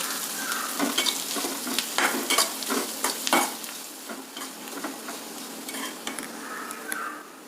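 Spoon stirring a rice dish with salt and turmeric in a pan, just off the heat; repeated scraping and clinking strokes over a light lingering sizzle, close up and without talk.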